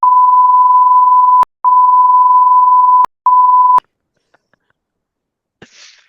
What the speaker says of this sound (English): Just put a big beep through that one